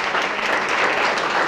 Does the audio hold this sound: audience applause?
yes